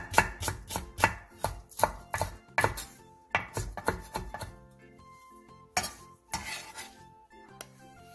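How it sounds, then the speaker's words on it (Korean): Green onions being sliced diagonally with a knife on a cutting board, a quick run of sharp, close chops in rapid rhythm, a short pause, then a few more scattered cuts with light clinks. "대파 3개를 어슷썰게 해주세요."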